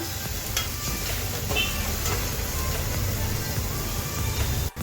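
Onion sautéing in a pan for a Konkani-style sprouted whole masoor usal makes a close, continuous sizzle with faint stirring scrapes, cutting off abruptly at the end.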